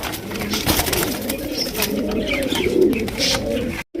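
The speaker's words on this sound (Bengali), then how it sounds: "এটা হচ্ছে কবুতর" Pigeons coo steadily and low at a pigeon market, a close, continuous murmur of several birds with occasional wing flutter.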